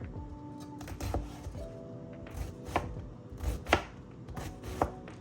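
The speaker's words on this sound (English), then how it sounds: "or dice it, whatever you want to do, into little small pieces" A knife chops ingredients for stuffed jerk chicken into small pieces on a cutting board, with irregular crisp taps that come close and fairly loud and have no talk over them.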